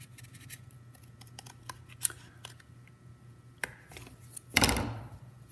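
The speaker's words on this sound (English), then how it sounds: "if you open the scissors and you cut back towards the pivot point, the scissors cut better" Scissors cutting out paper fins, a series of soft snips and crisp cuts scattered close by, ending with a louder rustling crunch of paper.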